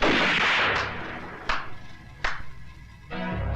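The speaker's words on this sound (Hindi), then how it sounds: "हवा में गोलियां चलाने से कुछ नहीं होगा" Gunshots fired into the air, several loud sharp cracks spaced about a second apart, each followed by a short decaying echo, from a 1993 Hindi action film scene.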